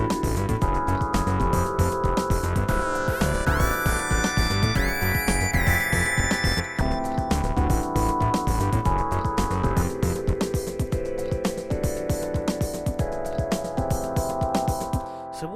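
Airy, wishy-washy synth pad voiced in fifths, played flat and dry with no movement added, layered with sustained chords and bright high tones in a full, steady musical passage of continuous loudness.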